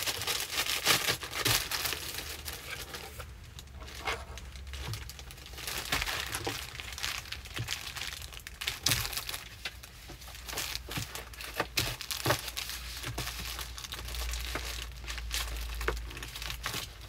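Plastic packaging crinkling and crumpling as a pair of pants is packed into a flat rate mailing envelope, a quiet, close, irregular rustle with sharp crackles scattered throughout.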